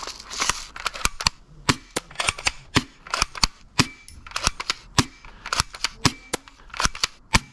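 Cheap airsoft guns fire in a rapid, irregular string of sharp, close snapping shots, about two dozen pops over several seconds with no talking between them.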